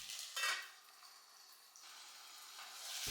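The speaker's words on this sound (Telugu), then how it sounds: "ఇప్పుడు వీటిని ఒకసారి మంచిగా కలుపుకుని మూత పెట్టి టమాటాలు మగ్గేంత వరకు ఉడికించుకోవాలి" Onions and tomatoes stirred and sizzling in a hot pan, a steady frying hiss with a few scraping strokes of the spoon, close and fairly quiet.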